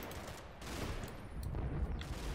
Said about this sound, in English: So we got a suppressing fire on the house